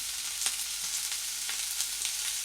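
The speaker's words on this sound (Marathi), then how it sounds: "वांगी आपल्याला 1-2 मिनिट अशीच तेलामध्ये छान डाग पडेपर्यंत भाजून घ्यायची आहे" Eggplant pieces fry in hot oil on an iron pan with a steady hiss, broken by scattered sharp pops and crackles. It is close, with no talking.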